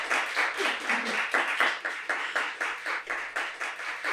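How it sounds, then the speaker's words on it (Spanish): A small studio audience claps during a podcast introduction, giving rhythmic, fairly even applause from nearby with no talking over it. "Un aplauso, por favor"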